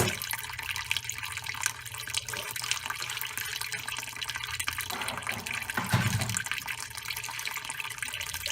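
Water pours steadily into a container during a Darcy flow-rate lab, a continuous close splashing rush with a brief louder gurgle near the end.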